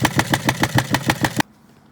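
A sewing machine stitches fabric in a quick, even run of about a dozen rhythmic needle thumps, loud and close, then stops abruptly into near silence.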